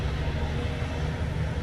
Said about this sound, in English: you can hear this huge dump truck